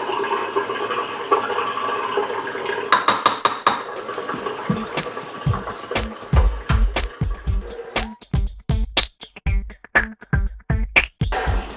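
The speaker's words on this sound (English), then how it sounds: "So we're going to scrape the side of the bowl to make sure that all of it gets incorporated." A spoon scrapes and knocks around a bowl of mashed potatoes, making a run of close, quick clatters and taps that grow sharper and more spaced toward the end, with a rushing wash of sound early on.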